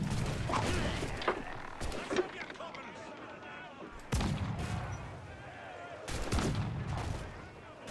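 Video game gunfire at a shooting gallery: a few sharp, loud shots ring out at uneven intervals and echo into a rumbling tail between them.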